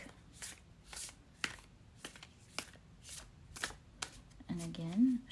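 A deck of cards is shuffled in a string of quick, crisp riffling bursts at a steady rhythm, with a voice speaking briefly near the end.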